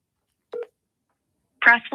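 Telephone keypad tones sound as a number is dialed: a short beep, a pause, then a quicker burst of dialing tones near the end, clear and close with no talk over them.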